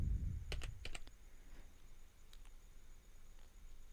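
Keystrokes from code being typed on a computer keyboard: a quick burst of several clicks, then a few more scattered presses, soft and close in a quiet room with a low hum.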